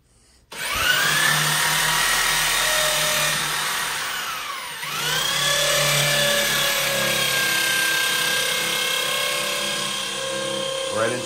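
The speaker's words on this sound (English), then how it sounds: "Drill a little bit of that concrete." Power drill boring into a concrete bathroom wall, a loud continuous whine that winds down briefly midway and then restarts for a second long run.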